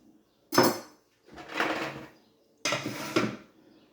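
A knife cutting through a melon half: three separate rough, scraping bursts, each about half a second long, close and fairly quiet, with brief silences between them.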